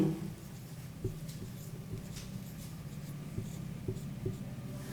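Chalk or marker writing on a board during a math lesson: faint, steady scratching strokes with soft taps, quiet and close, with no speech.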